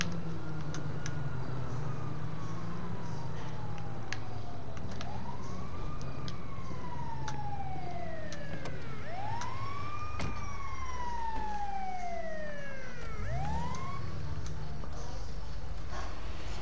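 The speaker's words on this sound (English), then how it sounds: "Stupid ambulance." An ambulance siren in the video game Grand Theft Auto V wails in repeated rising and falling sweeps. It grows louder and swoops as it passes, over a constant background rumble, with no talking.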